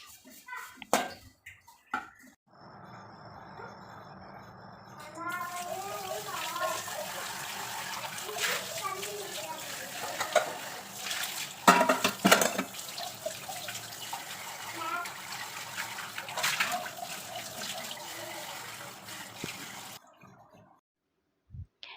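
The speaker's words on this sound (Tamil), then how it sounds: "இப்போ பாத்திரம் எல்லாத்தையும் கழுவி கமுத்தி வச்சாச்சு" Water runs from a tap and splashes as dishes are rinsed close by in a small kitchen, with occasional clinks and bursts of louder spraying.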